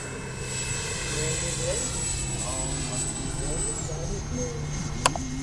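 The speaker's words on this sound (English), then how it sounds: "Haven't flown in a while, so I'm going to do a practice landing pass." A Freewing A-4 Skyhawk 80mm electric ducted-fan RC jet flying a practice landing pass gives a steady high whine throughout, fairly constant in level, with a slight pitch drop near the end and a brief click just after.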